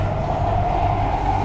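A metro train runs steadily with a continuous low rumble and a droning mid-pitched whine, close and loud, with no speech.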